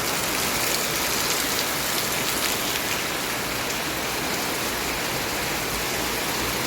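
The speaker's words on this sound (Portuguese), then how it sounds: "olha que chuva maravilhosa que Deus está mandando" Heavy rain pouring steadily outdoors, a dense, loud, unbroken hiss of water falling without pause.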